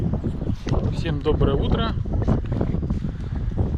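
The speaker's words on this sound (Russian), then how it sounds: "Немножко ветер есть у нас сегодня, ребята." Gusty outdoor wind buffets the microphone in a continuous rumbling rush throughout, with someone talking over it.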